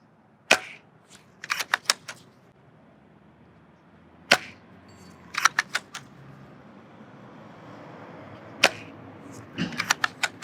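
Action Army T11 bolt-action airsoft sniper rifle shots striking a 2x4 target about 100 feet away, heard as sharp snapping cracks in small clusters of rapid hits separated by pauses, over quiet outdoor background.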